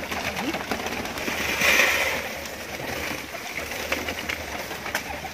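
Pigeons on a rooftop with faint, soft cooing that sits within a continuous, noisy outdoor background.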